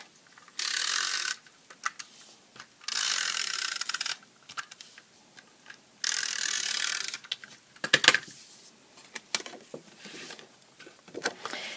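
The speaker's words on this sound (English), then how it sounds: "So I'm going to use my snail adhesive again" A snail adhesive tape runner rolls across a handmade Christmas card in several short ratcheting bursts with pauses between them, close and fairly quiet.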